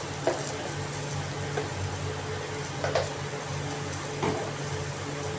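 Bitter gourd curry with softened onions, just salted, is stirred in a pan: a soft continuous sizzle with a few spaced scraping strokes of the spoon, fairly quiet and steady.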